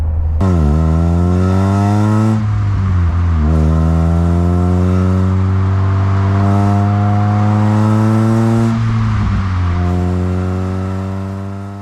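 Opel Kadett E GSI 16V engine revving hard, loud and close, climbing in pitch through several sharp throttle blips with brief drops between, each rising sweep screaming up quickly before falling back.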